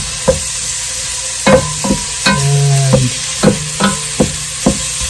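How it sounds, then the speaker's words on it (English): Onions broken up and stirred in a pan for a Navy-style SOS dish: a run of sharp, rhythmic scrapes and taps from a kitchen tool over a light sizzle, close and loud, with a brief tonal squeak midway. "I'm just breaking up the onions in here."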